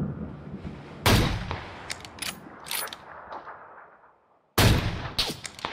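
A sharp, loud gunshot from a PUBG match rings out near the start, followed by mechanical clicks and a gradual fade to silence, then a second equally loud shot lands near the end.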